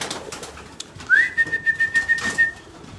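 Racing pigeons in a loft give a drawn-out whistling coo followed by a rhythmic series of soft pulsing coos, close and clear over quiet room tone.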